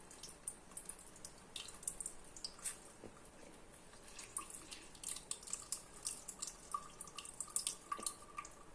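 An orange is squeezed by hand for a smoothie, giving faint wet squelches and dripping juice with small splashes, quiet and close in a kitchen.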